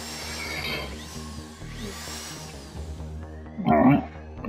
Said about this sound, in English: Alright, drill the door lock out.